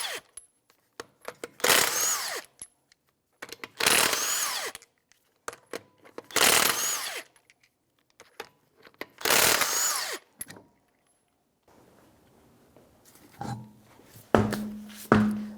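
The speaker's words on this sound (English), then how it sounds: "21mm socket, and we'll take the lug nuts off" A power tool spins a 21mm socket to remove lug nuts from a Nissan Maxima's wheel, loud buzzing bursts repeating four times with pauses between, followed by a few metallic clanks.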